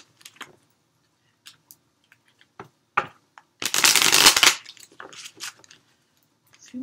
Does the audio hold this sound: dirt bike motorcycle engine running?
no